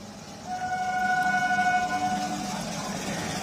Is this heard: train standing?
yes